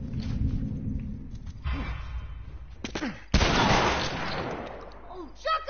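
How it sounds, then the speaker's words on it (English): A shotgun blast in The Last of Us, one sharp loud burst standing out from game sounds and speech, followed by a ringing decay and a heavy breath. "Oh, shotgun!"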